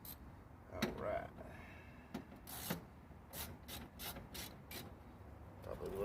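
A socket wrench ratcheting while removing plates, heard as faint, close scraping rubs and short clicking bursts with irregular metallic taps and clatter.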